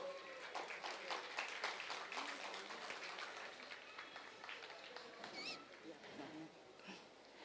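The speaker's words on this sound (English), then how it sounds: "A big round of applause for Krupa." Audience applause at an international yoga festival in Rishikesh, a sustained patter of clapping that gradually thins out, with faint voices mixed in.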